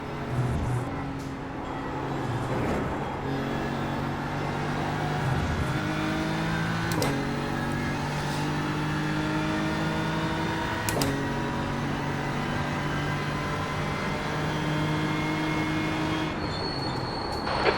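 McLaren race car engine in a racing video game, a loud, sustained, high engine drone that climbs and drops with several gear changes across the lap, with no talking.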